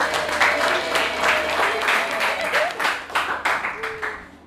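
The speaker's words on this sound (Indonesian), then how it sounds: "Oke, tepuk tangan." An audience in a classroom at an Islamic university in Malang applauding, dense continuous clapping from many hands, fairly loud with a few voices mixed in.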